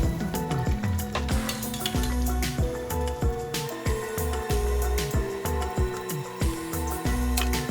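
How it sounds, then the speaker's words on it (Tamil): Chicken wings deep frying in hot oil on a low flame, a continuous close sizzle with rapid irregular crackles and pops and short clicking bursts throughout, no voices. "இப்போ நல்லா டீப் ஃப்ரை பண்ணிட்டோம்"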